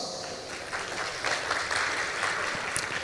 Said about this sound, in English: Ladies and gentlemen, can you give warm applause?